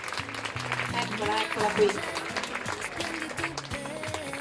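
Applause at an evening fashion show pageant in Campagna Lupia near Venice: clapping runs throughout, mixed with music and a voice speaking over it.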